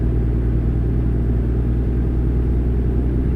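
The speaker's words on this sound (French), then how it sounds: "Ils arrivent fort quand même, hein, les autres camions derrière toi." Trucks in American Truck Simulator rumble from behind, a constant, loud, low engine drone with steady road noise and no break or speech.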